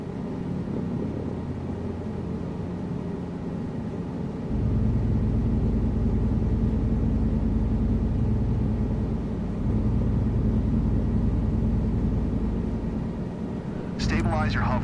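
Helicopter in Microsoft Flight Simulator 2024 lifting off from its skids into a 2-foot hover: a steady, loud engine and rotor drone that swells and deepens partway through, holding as a continuous roar, with a brief higher rattle near the end.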